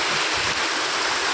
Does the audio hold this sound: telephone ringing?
no